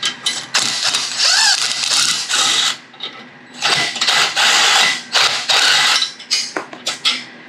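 Half-inch ratchet wrench working a bracket loose on an Alexander Reynolds (ARCO) mini-bike under restoration, giving bursts of rapid mechanical clicking and scraping in several close, loud runs separated by short pauses.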